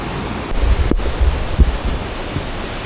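Steady roar of sea surf washing against the shore at Lingayen, Pangasinan, mixed with blustery wind buffeting the microphone, continuous and fairly loud.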